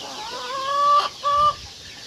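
Chickens and chicks cluck in two drawn-out, close calls with a brief pause between, over a quiet farmyard background.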